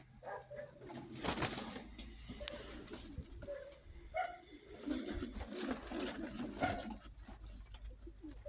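A speckle-tailed female pigeon and others coo in low, rolling calls, repeated nearby at moderate volume, with some wing flutter and shuffling in the loft.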